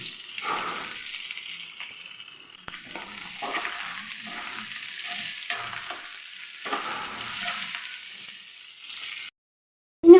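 Chopped onion with ginger, curry leaves and green chilli frying in a pan, a steady low sizzle with occasional stirring scrapes, ending in a short silence and then a sudden sharp sound.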